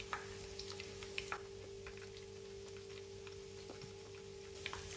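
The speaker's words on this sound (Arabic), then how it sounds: "هلا حمي عنا الزيت هون، بحط القطايف. رح اقلي قسم كتير صغير" Qatayef frying in hot oil, a steady low sizzle with scattered crackles and pops throughout, heard close up and with no talking.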